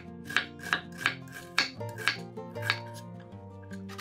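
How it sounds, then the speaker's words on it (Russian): A knife chops an onion into cubes on a cutting board, with sharp, evenly spaced strokes about three per second, close and fairly quiet, over a soft tonal background. "Одну луковицу нарезаем кубиками."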